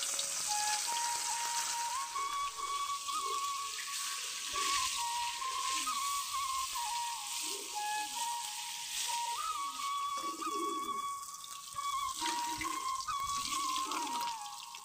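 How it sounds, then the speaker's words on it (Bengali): Fish sizzles in hot oil in a pan, a continuous close crackle and hiss under a steady kitchen hum, with no voices. "এখন আগে মাছটা ভেজে নিব।"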